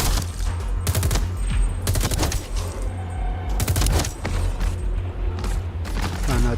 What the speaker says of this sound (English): You can shoot these guys from way over here too. Usually takes like 3 shots.